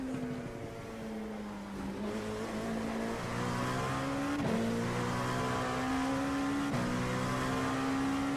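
Race car engines in the iRacing sim at the 24 Hours of Daytona drone steadily, rising in pitch and then dropping at each shift, for several seconds. The sound is fairly quiet, and faint tire noise and other cars sit underneath.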